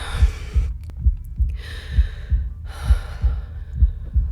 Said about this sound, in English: Follow the sound of the heartbeat.